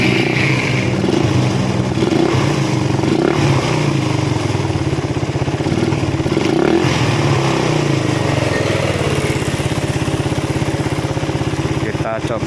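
Motorcycle engine running with its throttle raised during carburetor adjustment: a continuous loud, rough engine roar with surging revs throughout, close up, with a voice speaking faintly under the noise.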